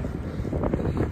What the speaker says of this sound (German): Wind kommt schräg von der Seite.